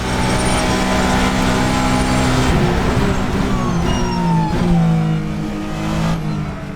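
A VRC 9T8 race car engine in Assetto Corsa drones loudly and steadily, pitch rising and falling through shifts and corners, close and continuous with no talk.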